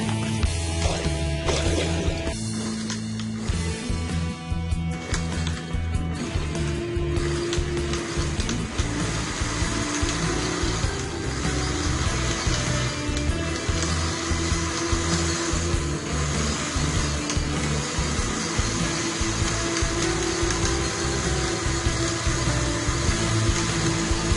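A juicer blender runs on dried plum (aloo bukhara) juice with sugar and cold water, a loud, steady whirring drone lasting throughout with only slight shifts in pitch.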